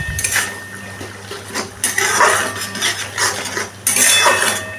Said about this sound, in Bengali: তেলের সাথে ভালো করে এটাকে আমি কষিয়ে নিচ্ছি।